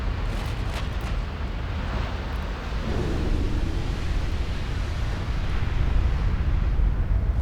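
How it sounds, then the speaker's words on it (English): Ultimate Admiral Dreadnoughts battleship blowing up as its main gun ammunition detonates: a continuous deep rumbling roar, loud and sustained, with low booming swells and no talk. "I'm assuming all of its main gun ammo exploded"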